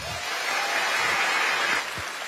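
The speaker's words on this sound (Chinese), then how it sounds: "请现场所有的朋友" A live studio audience at a televised singing competition applauds, a steady wash of clapping that swells briefly and then thins slightly near the end.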